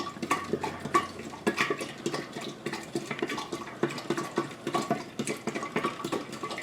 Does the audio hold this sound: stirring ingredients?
yes